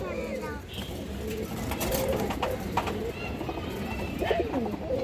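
Pigeons of an old local line cooing in a loft, repeated low coos and some chirps under a man's speech.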